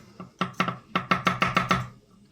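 A knife thinly slices garlic on a cutting board in about eight crisp, close taps with a quickening rhythm, and nothing else is heard.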